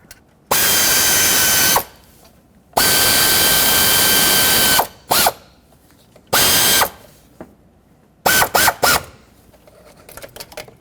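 Power tool driving two thermostat housing bolts on a Ford Flex engine, with several loud whirring bursts separated by pauses and a couple of short ratcheting stutters near the end.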